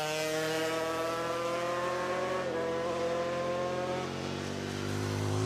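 A Rotax two-stroke Grand Prix racing motorcycle passes at a road race, its high, buzzing engine note holding steady and then dropping in pitch as it goes by, loud and alone.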